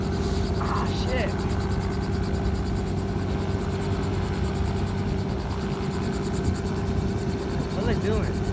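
A rented helicopter runs steadily with a continuous rotor and engine drone throughout, while people talk nearby at intervals.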